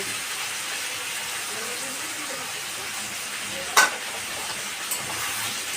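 Spice paste of ginger, garlic, cumin, green chili and tomato with salt, turmeric and Kashmiri chili frying in a pan for a catla fish curry, a constant soft hiss with one sharp clatter of a utensil near the middle.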